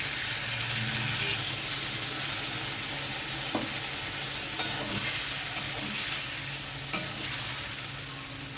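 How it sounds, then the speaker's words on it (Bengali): A spatula stirs salted vegetables in a hot pan. A steady sizzle and hiss of frying runs throughout, with scraping strokes and a few clear knocks of the spatula against the pan, close up and without speech. "লবণটা দিয়ে খুন্তি দিয়ে আমি একটু সবজিগুলো নেড়ে নিলাম।"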